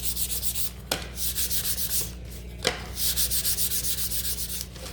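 400-grit sandpaper rubbed back and forth over laser-cut wood with the grain, a steady rhythmic scratchy swishing of even strokes, close and alone, with two brief knocks in between.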